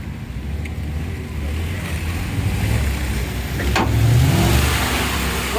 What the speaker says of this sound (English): So we're gonna give him a yank with the Rhino kinetic rope